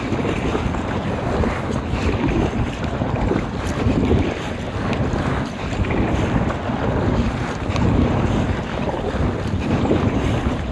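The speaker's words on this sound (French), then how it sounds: "le vent qui meurt pas" Loud, unbroken wind rumbles and gusts across the microphone while kayaking in an inflatable kayak on the Saint Lawrence, mixed with splashing water, swelling slightly in places.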